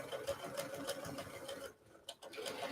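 A sewing machine stitches a quilt block with rapid, evenly pulsing needle strokes, quiet and close, pausing briefly before resuming.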